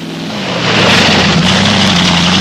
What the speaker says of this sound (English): Number 104, a Strange Rover Mark II, driven by Pete and Michael Taylor.